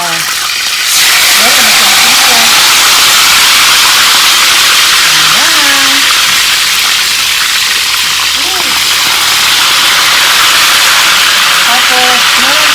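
Salted katambak fish sizzles in hot oil in a pan, a steady, close frying hiss that holds from the first second to the end, with a faint voice underneath.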